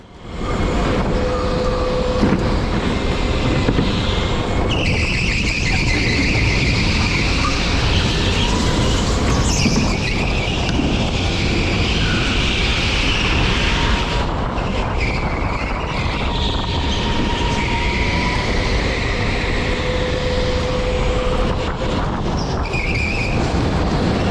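An electric go-kart runs a fast lap at the TeamSport Manchester Victoria indoor track. A loud, continuous whine from the motor rises and falls through the corners, with tyre squeals, heard up close the whole time.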